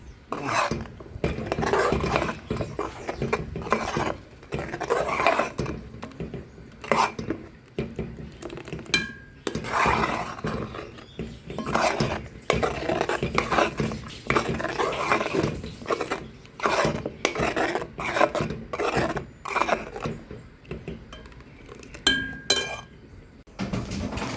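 Paynause stewing in a pot and stirred steadily, with a spoon scraping and rasping against the metal pot and occasional clinks, repeating throughout in a continuous, close rhythm.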